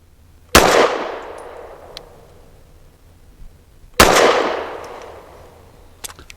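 Two sharp, loud shots from a BRG9 Elite Gen 2 9mm pistol firing +P rounds, spaced about three seconds apart, each with a ringing tail that fades outdoors.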